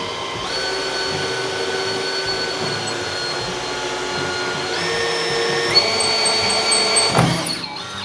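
A steady, whining electric drill, without hammer mode, bores into a solid plaster wall, running continuously, its pitch shifting slightly midway before a brief louder grinding burst near the end, close and loud.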